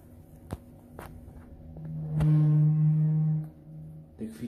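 A 1998 Otis 2000H elevator in a residential building squeaks while moving, a sustained, loud tonal squeal lasting over a second amid scattered knocks and clunks from the car.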